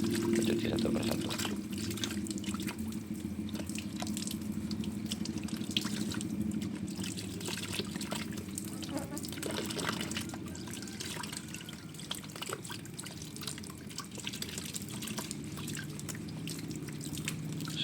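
Steady running water trickles and splashes continuously over a Monstera plant cutting being rinsed, with dripping and light handling noises throughout.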